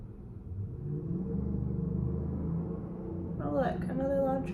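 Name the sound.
loud truck driving past outside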